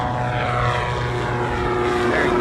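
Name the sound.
Viking 130 SeaRey seaplane engine during takeoff run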